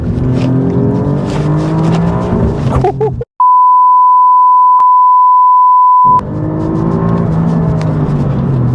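A 2021 Alfa Romeo Giulia Quadrifoglio in race mode pulls hard along country roads, its loud, steady engine roar filling the cabin. A flat electronic beep tone cuts it off for about three seconds mid-run before the engine returns.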